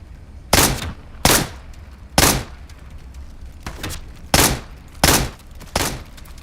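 Sharp gunshots from Into The Radius 2 ring out in a steady series of about seven single loud cracks spaced roughly a second apart, each with a short echoing tail.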